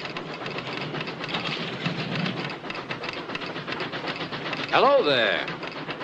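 An old steam train pulls into a station in a 1948 film, its rumbling chuff building under a brief spoken greeting, with a sharp rising whistle-like screech near the end.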